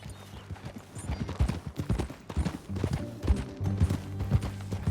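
Horse hooves clip-clop in Red Dead Redemption 2, an irregular rhythm of close, fairly loud hoofbeats from riding horses, with a low musical drone underneath.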